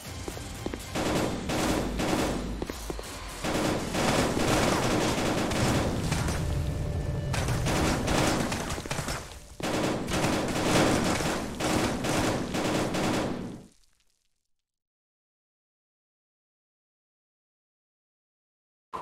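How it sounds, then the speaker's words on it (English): Heavy, continuous gunfire from enemies shooting at the player in a VR shooter game, dense rapid bursts with booming shots that run loud for about thirteen seconds before cutting off into silence. "Where are they shooting me?"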